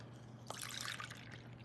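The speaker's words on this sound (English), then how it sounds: "Now I'm going to pour some solution in here." Cleaning solution is poured into a carpet cleaner, a short, quiet gurgling trickle of liquid that splashes in briefly over a low steady hum.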